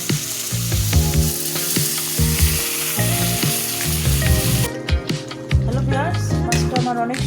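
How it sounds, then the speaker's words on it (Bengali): Chopped onions frying with a little gravy in a pan for a shing fish bhuna: a loud, close sizzle broken by stirring and scraping, with faint voices in the background. "পেঁয়াজ দিয়ে দিলাম এখানে সামান্য ঝোল।"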